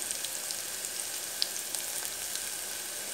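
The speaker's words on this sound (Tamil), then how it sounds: "சின்ன வெங்காயம் ஆட் பண்ணியிருக்கேன். கொஞ்சம் நல்லா வதங்கட்டும்." Shallots fry in a pan with a soft, continuous sizzle, close but fairly quiet, dotted with a few faint pops and no talking.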